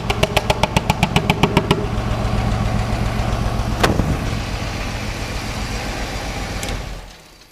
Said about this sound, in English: So we already have a misfire in this engine.